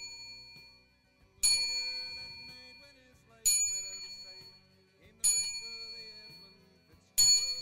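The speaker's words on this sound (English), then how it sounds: "we will do a 29 bell salute" Four bells struck one after another at roughly two-second intervals for a 29-bell salute, each a bright metallic clang that rings out and decays before the next.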